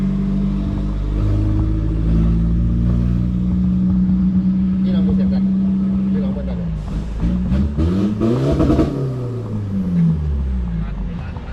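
A tuned Ford Fortuner's engine revs up and falls back in repeated throttle blips, loud and close, as voices talk over the rising and falling drone.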